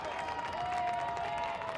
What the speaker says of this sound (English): The crowd is loving that here in Mount Vernon Memorial Stadium